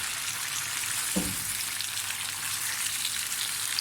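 Chicken karahi frying in a karahi, Peshawari charsi style, with a steady broadband sizzle filling the clip and one brief low thump partway through, no talk.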